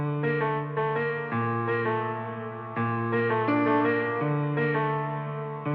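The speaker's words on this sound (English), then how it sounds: "So I'm gonna put a reverb on it as well." A synth melody made in FL Studio plays with reverb, sustained layered notes changing every second or so and a spacious, echoing tail filling the gaps, steady and fairly loud with no voices.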